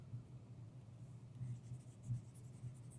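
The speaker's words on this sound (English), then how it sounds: "Let me erase that." A board eraser rubs out writing on a board during an electricity lesson, a faint, soft scrubbing with a few stronger rubbing strokes repeating at an irregular pace, heard alone.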